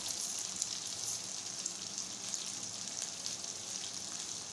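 Chicken shashlik pieces frying in a pan after the heat has been turned up, a steady close crackling sizzle with fine popping that holds evenly throughout, no voices.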